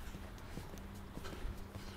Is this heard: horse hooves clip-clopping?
yes